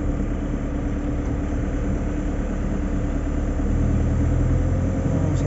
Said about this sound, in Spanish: Tenemos aquí el camión de la basura.